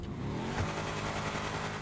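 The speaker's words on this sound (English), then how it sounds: "Now we're just going to rev it up while holding the handle brake." A tuned Brawler off-roader in GTA 5 Online revs hard while held on the handbrake, giving a continuous loud engine roar with slight pitch wobble across the short stretch.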